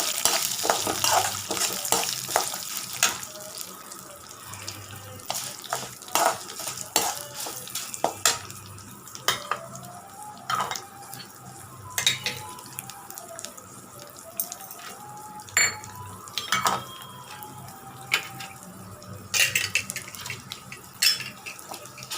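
Garlic, tamarind and chutney ingredients sautéing in a pan, a low sizzle broken by repeated clinks and scrapes of a spoon against metal, close by and without talk.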